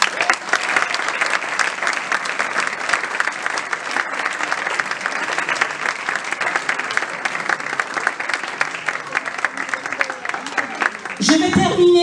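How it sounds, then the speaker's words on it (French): Sustained applause from an audience at an anniversary celebration for volunteers, a dense steady clatter of many hands lasting throughout, with a few voices and a brief louder stir near the end. "vous pouvez les applaudir également"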